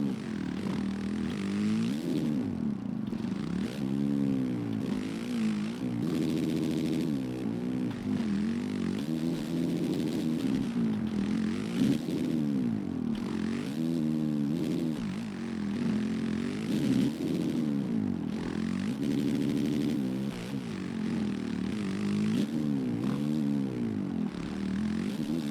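A motocross bike's engine in MX vs ATV Legends revs up and down repeatedly at Glendale Supercross, rising and falling pitch sweeps in a steady loud drone with no talk.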